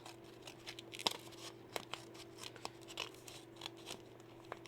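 Scissors snipping through the top of a mail package, a handful of light crisp cuts spaced about half a second apart, close and quiet with no talking.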